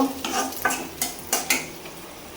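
Meat warming in a pan in a home kitchen, with soft sizzling beneath a few distinct scraping stirs of a spatula, heard near and alone.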